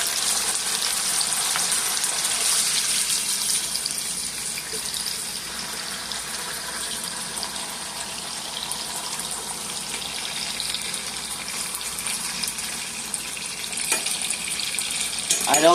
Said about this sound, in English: So I'm going to fry these extra crispy. So let me go ahead and add my potatoes in